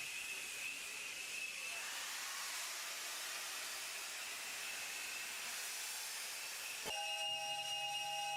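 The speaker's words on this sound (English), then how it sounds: "the shrills of steam and all the other noises, smells and mechanical clatter that make up the magic of steam locomotion." A steam locomotive on the Mombasa-Voi line vents a steady, fairly faint hiss of steam with a thin whistling tone, then a sharp change brings a brighter, more tonal shrill near the end.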